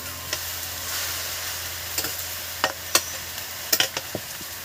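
Cabbage stirred in a pan with a spoon, giving a soft steady sizzle with a few sharp scraping knocks near the end, close and without talk.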